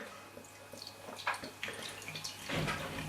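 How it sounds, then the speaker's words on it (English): Beer poured from a glass bottle into a glass, a quiet gurgling splash with a few drips, growing fuller and louder toward the end, close up. "Beer pouring out."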